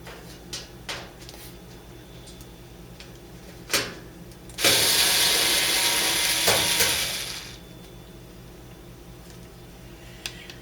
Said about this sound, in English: So we'll take this last screw out.